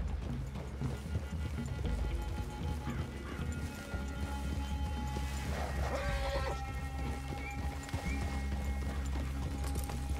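In Red Dead Redemption 2, horse hooves clip-clop steadily over a constant low rumble, with faint animal calls and soft tones drifting through the background.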